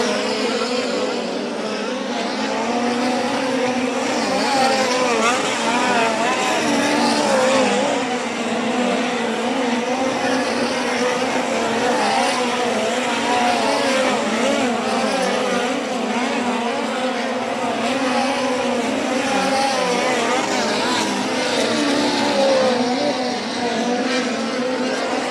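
USAC race cars at Angell Park roar continuously around a dirt track during a hot lap session, engines droning and swelling at a distance over a long stretch, with faint commentary underneath.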